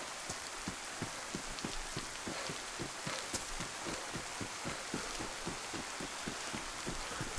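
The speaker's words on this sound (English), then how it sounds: "God, it's just raining so much." Heavy rain pours steadily in the survival game DayZ, a dense continuous hiss with a regular low thudding pulse, likely footsteps, running beneath it throughout.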